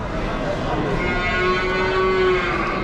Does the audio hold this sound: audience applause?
no